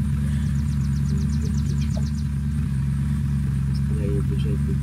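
A car driving along a road in the survival video game Unturned, a steady loud engine drone and rumble throughout, with a brief ticking sound partway through and someone talking in French over it.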